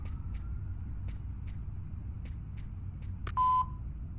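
A short electronic telephone beep in Fahrenheit: Indigo Prophecy, a single bright tone lasting about a quarter second near the end, sounding clearly over a steady low rumbling background, with a fainter tone heard earlier.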